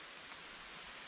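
Steady rain falls outdoors on a wet Vermont night during archery deer season, a faint, even hiss of broadband wash with no distinct drops standing out.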